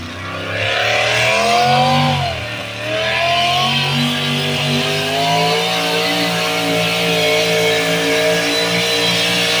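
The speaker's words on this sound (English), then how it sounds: "the Always Creative modified single engine tractor" A modified single-engine tractor at a fair's tractor pull runs loud and close with a heavy, rising engine roar, briefly dipping in pitch around the second mark and then holding a strong, steady high-revving drone.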